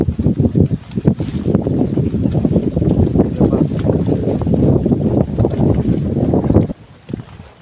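Boat ride on the Bhandardara dam reservoir, with a loud steady rumble of engine and water rushing under heavy wind buffeting the microphone, fading abruptly near the end.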